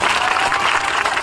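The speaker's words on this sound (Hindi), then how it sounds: "अपने बदहाली की बात सुनकर ताली बजा रहे।" A crowd applauds during a political speech in Bihar, with a dense, steady wash of clapping throughout and no one speaking over it.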